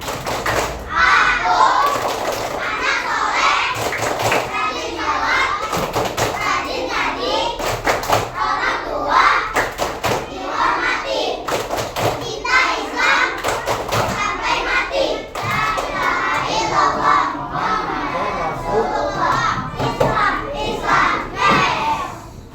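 Children in an Indonesian classroom perform a rhythmic clapping chant, voices chanting together in a loud, steady beat with claps and thumps running throughout.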